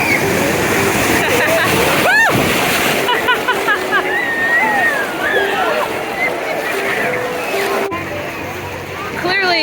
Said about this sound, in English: Clearly, riding the waves in a wave pool is quite the amusement here